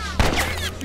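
Gunfire in The Last of Us, one sharp loud report near the start followed by a busy, dense game mix with no clear further shots.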